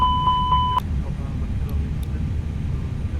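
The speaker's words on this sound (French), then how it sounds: "Test Fire Engine, nous avons les deux alarmes sur le FCU, une alarme sur les cams et une autre correspondant au moteur." A fire test alarm sounds on an Airbus A320neo cockpit in X-Plane 12: a steady electronic beeping chime repeats for under a second, then cuts off, leaving constant low engine and cockpit hum.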